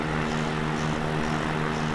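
A propeller airplane, the N89HU tied to Harrison Ford, flies in X-Plane 11, giving a constant loud engine drone with a steady low hum and airy whoosh, unbroken and close.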